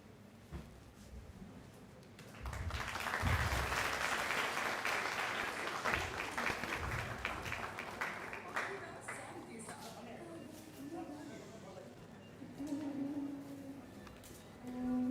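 An audience at a national-level college hackathon applauds with steady, moderately faint clapping that swells and then tapers off over several seconds, with talk audible around it.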